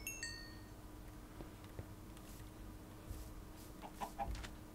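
Chickens in the video game Minecraft cluck softly in the background, a few brief faint clucks scattered over quiet game ambience.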